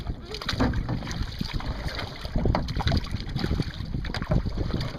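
Paddles stroke and splash as a double kayak moves across open water, with steady wind buffeting the microphone and a voice talking briefly over the rhythmic dipping.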